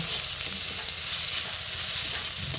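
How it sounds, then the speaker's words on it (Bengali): Potato, radish and radish greens stir-frying in a pan, a dense continuous sizzle close up with faint stirring, no talking. "এবার একটু ভাজা ভাজা করে নেব"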